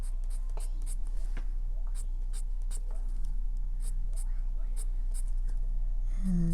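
Colored pencil scratching and flicking across paper in short repeated strokes while coloring hair over marker, soft and close, a steady run of light rasps with faint background hum.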